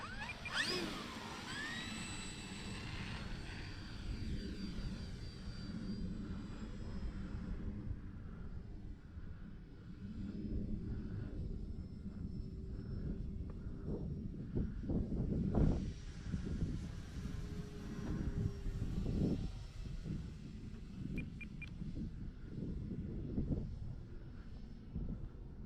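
An electric RC airplane, a Turbo Timber Evolution, runs at about half throttle on a rough Florida runway, a steady whining motor hum with shifting tones and rolling bumps and knocks, fairly close under light wind.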